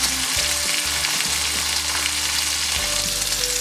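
A pork chop fries in a pan with a steady, dense sizzle. Faint spoon or pan contact and a low hum sit underneath, and no one speaks.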